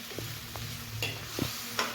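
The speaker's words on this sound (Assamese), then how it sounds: "ভালদৰে ভাজিম। অলপ দেৰি ঢাকোন মাৰি মাৰি ভাজিম।" Leafy greens fry in oil in a pan, giving a constant low sizzle with a few soft stirring scrapes and taps, close and quiet, no talking.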